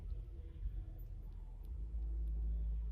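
Cars in an apartment complex give off a low, droning engine rumble that swells and thickens toward the end as one revs, heard from some distance with no voices.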